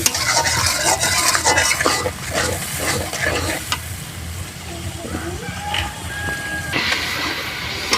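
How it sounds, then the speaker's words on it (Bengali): Spices with dry chili powder and salt frying and being stirred in a pan, a steady sizzle with scraping strokes throughout, close by, with occasional voices in the background. "মশলাগুলো খুব ভালো করে কষতে হবে।"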